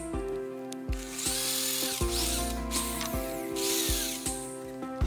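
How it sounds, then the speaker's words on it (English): A power drill bores into wood through a guide block, a steady motor whine with repeated surges and bursts as the bit cuts, close and continuous. "It makes it easy to drill at 90 degrees."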